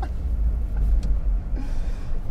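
A car rumbling along on a test drive, its low engine and road drone steady and close from inside the cabin, with no clear talking.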